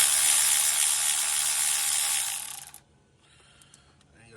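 A Milwaukee power tool whirs loudly and steadily for over two seconds while loosening thermostat bolts on a 2004 Nissan Sentra, then stops, leaving a few faint clicks and handling noises.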